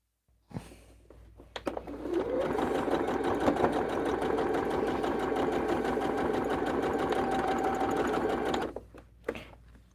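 A sewing machine runs steadily for several seconds stitching quilt fabric strips onto a center square, close and even-paced, with a few soft handling clicks before and after.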